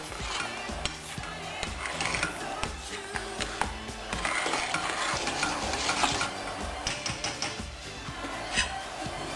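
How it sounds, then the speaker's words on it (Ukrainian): A spoon scrapes and stirs thick pumpkin porridge in a pot, steady rhythmic scraping with soft bubbling and clinks, close and continuous. "Її потрібно ще раз добре перемішати."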